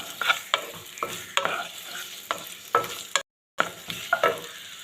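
Sliced onions and split green chillies sauté and sizzle in a pan for a jackfruit and dried prawn curry, with repeated stirring scrapes over a steady frying hiss and a brief silent gap near the end.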